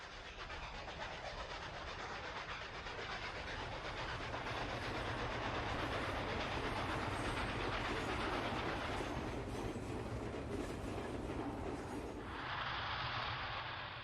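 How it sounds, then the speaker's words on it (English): An articulated R2 model train locomotive rolls along the track onto a bridge as it leaves a curve, making a continuous close rumbling clatter with a hissing wash that stays loud for the whole run and brightens briefly near the end. "The R2's articulated design is clearly in evidence as it exits the curve onto Prestonville"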